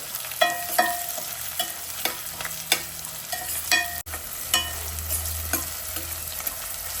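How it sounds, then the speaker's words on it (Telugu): Onions frying in oil in a pan for homemade chicken curry, with a spoon scraping and clacking as they are stirred in uneven strokes over a quiet sizzle, heard up close without speech. "వీటిని మంచిగా కలుపుకొని వీటిని మంచిగా వేగనిద్దాము."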